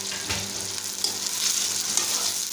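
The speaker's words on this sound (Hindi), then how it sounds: "2 कप हाई फ्लेम पे मैं इसकी भुनाई करूँगी" Masala for aloo chicken fries on a high flame with a continuous loud sizzle and occasional light stirring clicks.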